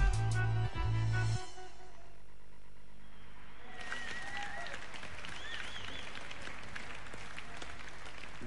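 Audience applause fills a hall at the GIGA Games Award show during the Games Convention, a dense wash of clapping that follows a loud, brief burst of sound at the start.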